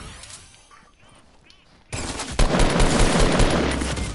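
Automatic assault rifle fire in a Fortnite-style shooter, a dense loud burst of rapid shots kicking in partway through after a quieter stretch and continuing steadily to the end.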